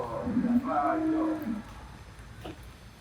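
Cattle at a farm with Hallikar and Malnad Gidda cows, giving a low drawn-out moo and then fainter lowing, quite close, with brief speech-like sound mixed in.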